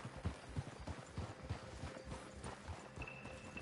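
Horses clip-clop as riders dismount in Red Dead Redemption 2, with several distinct, moderately close hoof strikes in an uneven walking rhythm over a soft ambient bed.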